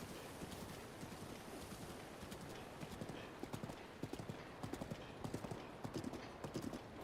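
A horse trots steadily across open ground in The Legend of Zelda: Breath of the Wild, riding around Hyrule. Its hooves clop in a continuous rhythmic beat that grows more distinct over a constant breezy outdoor wash.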